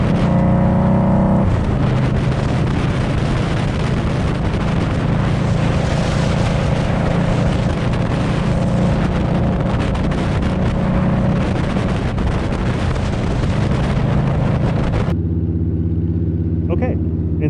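Motorcycle ride recorded on a helmet microphone, a steady loud roar of engine and buffeting wind noise throughout, cutting off near the end to a quieter hum.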